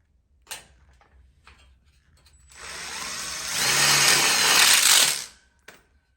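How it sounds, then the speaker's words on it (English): A power driver sinks screws into a ConnecTubes outdoor kitchen frame, rising into one sustained loud whirring burst of a couple of seconds, framed by a few sharp clicks and taps, close by, with no talking. "we'll lock it in with screws just like we did before"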